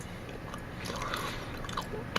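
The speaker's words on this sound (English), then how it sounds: "And I'm going to chew for 2 minutes." Gum chewed close to the mouth gives soft, wet, irregular bites and squishes, quiet and intimate, with no speech over it.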